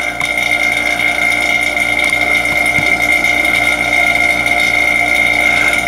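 A pump evacuates a homemade vacuum chamber used for making ring molds, giving a loud, continuous mechanical hum with a fast rhythmic chugging and a steady whine throughout.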